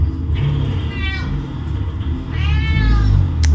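A house cat meows twice, with drawn-out, wavering cries separated by a short gap. Both meows sit over a steady low rumble in the background.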